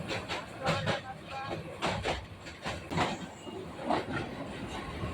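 The Jamalpur Express, a Bangladesh Railway passenger train from Dhaka, clatters along the rails in a steady rhythmic clickety-clack heard from inside a carriage, with faint hiss and a voice murmuring in the background.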